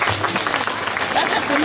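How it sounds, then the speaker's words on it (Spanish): Steady applause from a crowd, with voices talking over the clapping throughout. "Un aplauso para ellos que están con nosotros"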